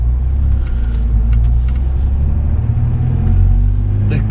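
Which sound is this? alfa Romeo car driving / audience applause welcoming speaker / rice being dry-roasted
alfa Romeo car driving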